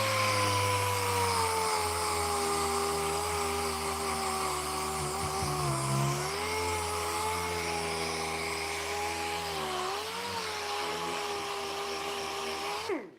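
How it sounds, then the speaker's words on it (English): A cheap Autobest air sander runs continuously with a high, whining pneumatic tone, dipping briefly twice as load changes, steady and fairly close in a woodworking shop. "this little air sander is by a company called Autobest"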